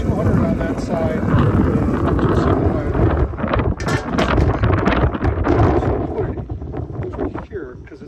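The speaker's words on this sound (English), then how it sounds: "Sorry for the wind noise there. That just proves it's windy outside." Heavy wind buffets the microphone outdoors in cold weather beside a pellet-charcoal smoker grill, a constant low roar, with someone talking over the rumble throughout.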